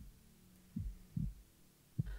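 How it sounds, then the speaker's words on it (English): A horror video game's heartbeat sound effect plays as three deep, low thumps at uneven intervals, with a fourth beginning at the end, loud and close against a faint background hum. "here we go, the heartbeat's intensing up"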